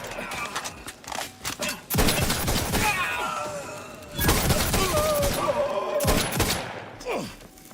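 Gunfire in The Outer Worlds 2 video game: loud bursts and volleys of shots in rapid clusters with ringing tails, mixed with game sound effects and brief voices.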